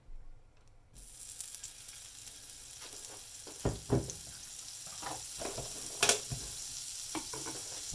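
Lurpak slightly salted butter sizzles in a hot pan, a steady close crackle broken by sharp pops and clatters of a utensil against the pan, with no talking.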